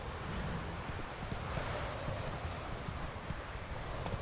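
The horse Roach trots in the Witcher 3 video game, a continuous run of quick hoof clip-clops over a rushing background bed, moderately loud and near.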